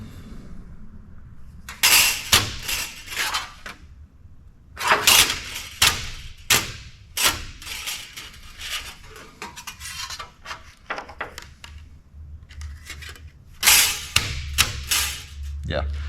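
A hammer pounds metal to flatten it. The loud, close blows come in several quick clusters with short pauses between them. No one speaks.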